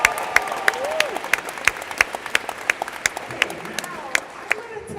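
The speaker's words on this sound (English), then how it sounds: "So can I get another round of applause for them?" Scattered claps from a small group at a luau, sparse and uneven, with voices and a few whoops mixed in.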